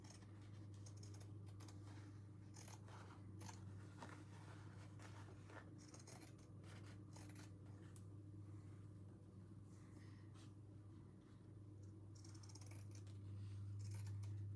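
Scissors cutting a strip of fabric for a banner: a quiet run of small snipping and rustling ticks close by, over a steady low hum, with no talking.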